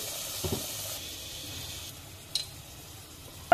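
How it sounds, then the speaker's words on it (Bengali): Potatoes fry in hot oil in a pot, giving a soft steady sizzle and hiss with a couple of brief clatters, fairly quiet and close. "তো এখানে আলুগুলোকে ভালো করে ভেজে নেব।"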